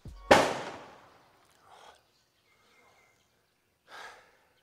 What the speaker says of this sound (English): I think they're using fireworks on the rice fields to get rid of the birds